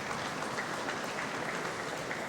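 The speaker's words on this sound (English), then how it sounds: "And the crowd acknowledging that shot from Chris Suchi" Spectators at the 2002 Manitoba Men's Provincial Tankard curling final applaud a shot, a steady, rain-like wash of clapping from across the arena, even and unbroken throughout.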